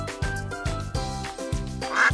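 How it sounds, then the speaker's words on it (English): Repeated quacking of a duck in short rhythmic bursts, close and fairly clear, with no talking over it. "It's a duck."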